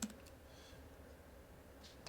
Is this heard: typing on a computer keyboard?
yes